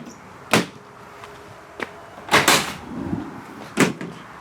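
The rear door of a Renault Trafic 1.6 dCi 120 hp L2H1 van is handled, several separate sharp metallic clunks and knocks spaced over a few seconds, close and moderately loud with no talking.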